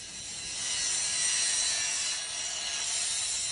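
A saw cuts stone at the Abu Simbel temples, producing a steady, close rasping grind that swells slightly and holds for several seconds with no voices.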